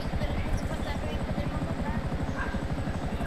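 A helicopter in Grand Theft Auto V thrums with a steady rapid rotor chop that stays loud and constant throughout, with voices talking over it.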